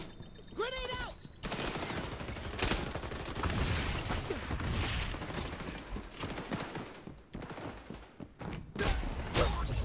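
Grenade blast and bursts of gunfire in the shooter XDefiant, a dense stretch of rapid shots and booms layered over game noise, with a player talking over parts of it.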